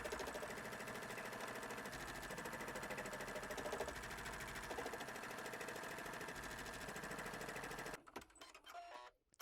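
An embroidery machine stitches a tack-down outline on an appliqué quilt block, a steady, fast mechanical clatter running loud and continuous, then stopping abruptly near the end, leaving quieter handling sounds.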